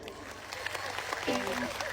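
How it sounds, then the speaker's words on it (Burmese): A crowd claps in a short, dense burst of applause that runs under a voice talking over it. "လက်ခုပ်တီး"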